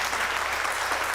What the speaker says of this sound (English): Something actually worth applauding.